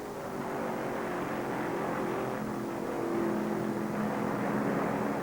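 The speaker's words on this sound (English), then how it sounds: "His car running just tremendously on this hot, hot afternoon in the south." NASCAR stock cars roar at the 1969 Firecracker 400 on a hot southern afternoon, a steady, fairly distant engine drone with shifting tones as cars circulate on the banked track.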